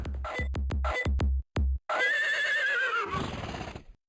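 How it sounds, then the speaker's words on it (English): A horse in a video game whinnies loudly after a run of rapid hoof clip-clops, the neigh rising and wavering for about two seconds before trailing off, with no talk over it. "Horse says no."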